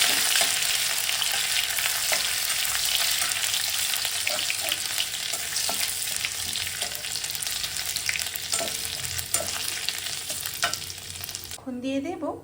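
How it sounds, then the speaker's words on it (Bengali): Ginger paste frying in oil for a spinach curry, a loud continuous sizzle with repeated scraping stirs of a spatula across the pan, ending in a brief muffled knock. "এবার দিয়ে দেব বাটা আদা বাটাটা। নেড়ে চেড়ে নিচ্ছি।"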